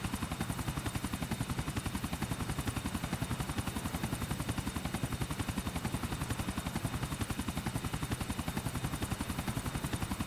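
A helicopter in the video game GTA Vice City gives off a continuous, rapid rotor chop at an even rhythm, moderately quiet and steady for the whole stretch with no talking.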